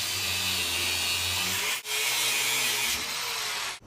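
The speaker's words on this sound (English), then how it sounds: "The grinder will cut through that quicker than anything else." An angle grinder cuts through an old drain pipe beside a drum trap, a loud continuous whine with a steady low hum, breaking off for a moment midway and then grinding on to the end.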